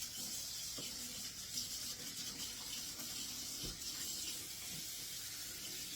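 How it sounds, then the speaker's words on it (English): Hands being washed under a running kitchen tap after handling sticky jalapeno popper ingredients, a steady close splash of water with faint rubbing, no talking. "And wash my hands. Because they're really sticky right now."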